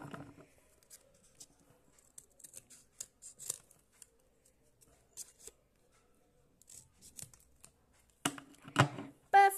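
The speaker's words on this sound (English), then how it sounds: "So, I'm going to cut that bit off." Scissors snipping paper for a small handmade miniature book, with quiet, sparse clicks and cuts near the microphone and a quicker, louder burst of cutting at the end.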